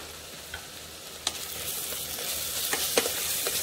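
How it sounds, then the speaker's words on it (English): Ginger garlic paste sautéing in a hot pan for pav bhaji, a soft steady sizzle with a few light stirring clicks and scrapes, close and alone with no talk. "I will saute that to get the raw taste out of it"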